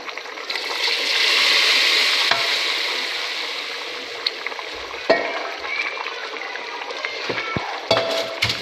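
Hot tadka tempering for village-style mutton paya (goat trotters) sizzles loudly and steadily, swelling early then easing, with scattered clinks and stirring knocks near the pan and no talk.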